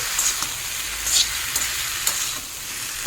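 Vegetables and spices fry in a pan with a steady bright sizzle, spiced with a few soft stirring clicks, close and evenly loud throughout.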